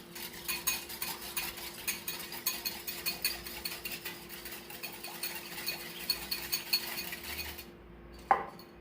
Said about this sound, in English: All you gotta do is whisk together and you got our teriyaki glaze.